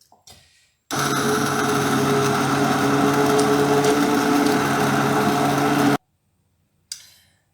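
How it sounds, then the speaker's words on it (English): A stick blender blends carrot and coriander soup in its bowl, whirring loudly and steadily for about five seconds, with a softer rattle and clatter just before and after it. "use my stick blender here to give it a bit of a zuzz"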